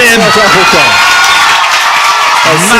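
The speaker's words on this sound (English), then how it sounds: "mustering up all the applause from the South African fans" A loud crowd of South African tennis fans roars and cheers continuously at a Davis Cup match while someone talks over the noise.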